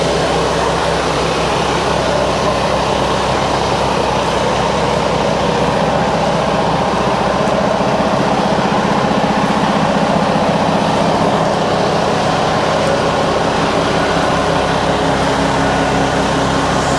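A Claas Xerion 12.650 Terra Trac tractor with a 15-litre Mercedes engine of about 650 hp runs at a loud, unbroken, steady drone with a deep rumble and broad mechanical hum, heard close with no voices.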